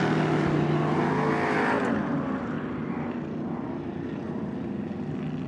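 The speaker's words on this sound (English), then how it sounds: "The classics El Camino will go by, and then Richie will pull onto the track." A classic Chevrolet El Camino runs along a race track at Crandon, Wisconsin, its engine a loud, steady roar that eases slightly as it moves by, with no voices.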